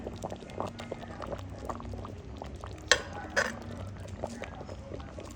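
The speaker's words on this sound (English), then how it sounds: "Make that simmer right down." A pineapple juice glaze for ham simmers and thickens in a pan, with a steady bubbling sizzle and a couple of sharp utensil clinks against the pot partway through.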